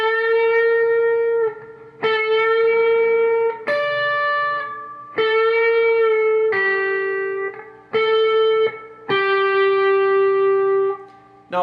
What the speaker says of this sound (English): So part 4 played all together in slow will sound like this.